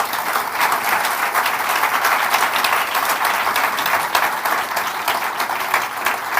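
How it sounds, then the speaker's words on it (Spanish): Steady, dense applause from a large church congregation continues throughout, loud and even, with no voices standing out. "Démosle un aplauso al Señor"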